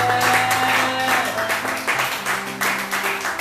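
Church congregation claps and cheers during a sermon, uneven bursts of applause over sustained musical tones from a keyboard or organ, with voices mixed in.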